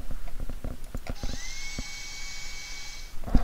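A drill sound effect MP3 previewed inside a Flash library, giving a steady high-pitched dental-drill whine that holds for about two seconds, preceded by a few clicks and ending in a loud click.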